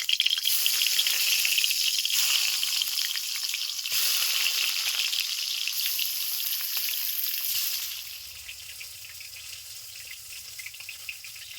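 Fish fries in oil in a pan with a strong, steady crackling sizzle that runs for several seconds, then drops to a quieter, softer bubbling toward the end, with no talking.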